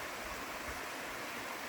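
The North Fork of the San Jacinto River flows with a loud, steady rush of water, a continuous broadband roar close by with no pauses or voices.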